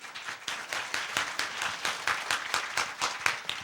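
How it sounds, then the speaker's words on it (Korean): A congregation in a Korean church gives a short round of applause in praise as a pastor comes forward, with fairly quiet, uneven clapping from a modest crowd at some distance. "하나님께 뜨겁게 영광 박수 돌리겠습니다."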